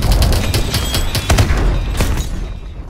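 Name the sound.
gunfire and tank cannon in Call of Duty Advanced Warfare video game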